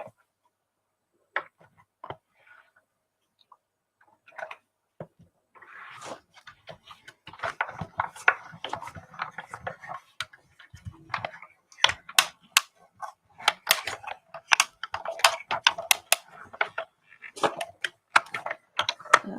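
An emboss-and-cut machine feeding card through a die, starting with sparse ticks and clicks, then settling into a dense, steady run of rapid mechanical clicking and whirring, close and fairly loud.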